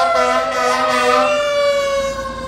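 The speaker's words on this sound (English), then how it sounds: "Oh no, it's a fire truck." A loud fire truck siren wails close by, its pitch sweeping up and down over a steady engine tone.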